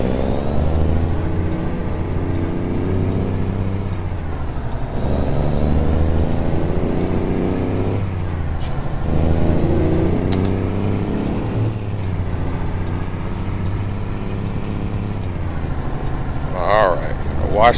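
Simulated truck engine from American Truck Simulator drones steadily at a low, loud pitch throughout, with rising revs and a few brief higher blips near the end; someone talks over it.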